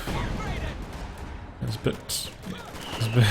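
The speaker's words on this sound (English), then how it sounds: "it looks like he is trying to bombard that with the high explosive" High-explosive artillery bombardment in the real-time strategy game Company of Heroes 2, with several scattered booms and gunfire bursts under someone commentator's steady talk.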